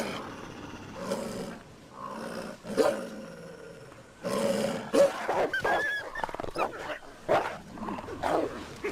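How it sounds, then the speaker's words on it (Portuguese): A wolf pack growls and snarls while feeding on prey in the wild Alps, with low rumbling growls rising and falling in overlapping bursts at close range. "Os rosnados e dentes à mostra reforçam as posições na matilha."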